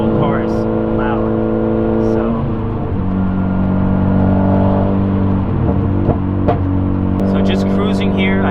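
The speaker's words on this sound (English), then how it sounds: "So just cruising here, I can actually hear a very low whine" A car cruises with a solid transmission mount newly installed, its loud steady drivetrain drone carrying a very faint whine underneath, with brief engine-pitch shifts and a voice talking over it.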